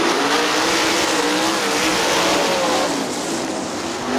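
Sprint cars race at Winston Motor Speedway, engines droning loudly and steadily with a wavering whine as the pack runs through the turns.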